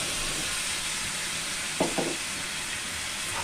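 Tomato paste hitting hot onion paste in a pan, a steady close hiss of frying with a couple of brief stirring clatters in the middle.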